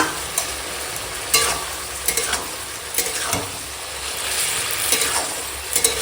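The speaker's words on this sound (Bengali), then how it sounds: "দেখো এখন এঁচোড়টা রান্না হচ্ছে" Young jackfruit cooking in a pan with garam masala paste, a continuous sizzle broken by repeated scraping stirs of a spoon against the pan, close and fairly loud.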